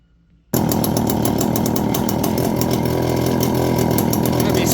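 Stihl 041 chainsaw just after an oiler repair, starting abruptly after a brief quiet moment and then running at a loud, steady high idle-to-rev buzz until the end.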